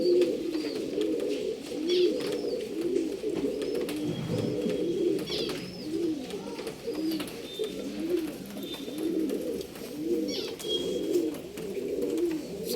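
Pigeons for sale in Bangalore coo in soft, repeated, rhythmic throaty phrases close by, with occasional higher chirps and faint background noise.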